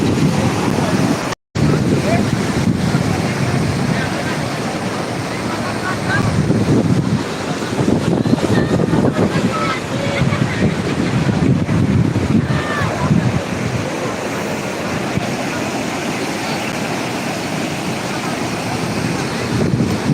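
Sea waves surge in at high tide on a busy beach, a loud continuous rushing roar with wind buffeting the microphone throughout.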